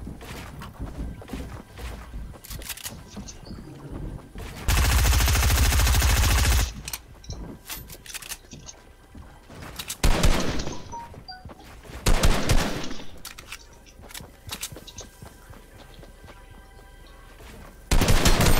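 Bursts of gunfire in a shooter video game: sustained automatic fire mixed with sharp single shots and game ambience, loud and close, with no talk.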